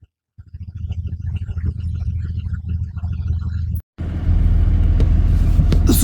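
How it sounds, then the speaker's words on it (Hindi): A goods train rolls past a closed railway crossing on a muddy road after rain, heard as a steady, loud low rumble that briefly cuts out and then returns heavier and closer. "सो गाइस ट्रेन जो है देख लीजिए, वो सामने है, जा रही है ट्रेन, कोई मालगाड़ी है"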